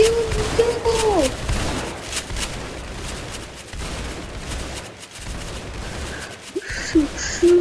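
Gunfire from a Roblox Tower Defense Simulator match with shotgun-wielding towers, a dense run of shots and bursts rolling on under game effects and tonal chimes, with brief talk near the start.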